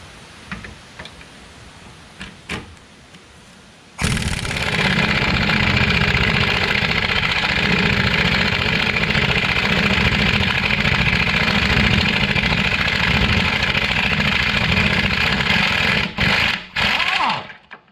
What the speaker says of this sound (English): I'm going to attempt to power this bracket off using a swivel socket and my air ratchet.